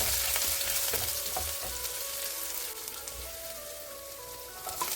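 Chopped ginger sizzles in hot oil in a pan while making wheat rava upma, a steady bright crackling hiss with occasional sharper pops and light stirring scrapes throughout.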